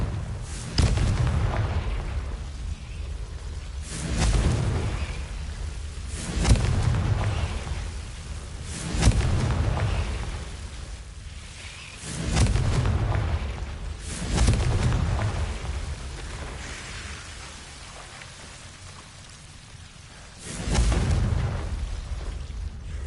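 Confringo blasting spell explosions in Hogwarts Legacy, a series of deep booming blasts every few seconds, each swelling then fading, with rumbling between them.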